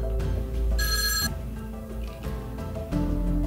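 A telephone rings with a bright trilling bell burst, close and loud, over a low hum of background music.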